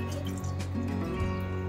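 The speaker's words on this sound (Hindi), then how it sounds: "बस हम इसमें थोड़ा पानी डालेंगे" Water is poured into a blender jar holding roughly chopped beetroot, cucumber and mint leaves for a morning drink, a steady close trickle and splash over a constant low hum.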